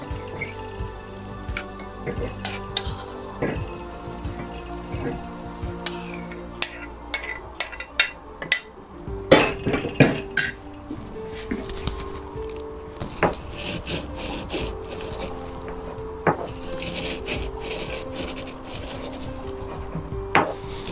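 Roasted coriander seeds being coarsely crushed for Punjabi samosa filling, giving close, irregular crunching and gritty grinding scrapes in uneven bursts, with no talking.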